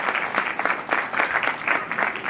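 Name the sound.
wedding guests applauding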